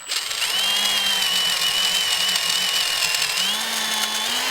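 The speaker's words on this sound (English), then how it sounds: "Sometimes that drill bit will catch right as it breaks through the other side of the primer pocket." A power drill bit whirs steadily as it cuts through the primer pocket of a cartridge case held in an RYT Gear modified case jig. The whine is close and constant, and its pitch shifts slightly near the end.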